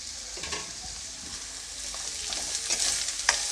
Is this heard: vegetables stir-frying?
yes